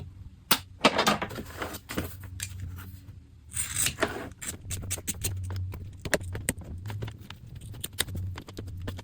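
Scissors snip repeatedly as excess material is trimmed around a sewn laptop bag zipper pocket, with close, irregular cuts and rustling fabric between them.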